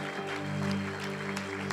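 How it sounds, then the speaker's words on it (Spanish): Church congregation applauding during an evening worship service, a steady wash of clapping held under sustained organ or keyboard chords, moderately loud and continuous throughout. "Dele fuerte el aplauso al Señor esta noche."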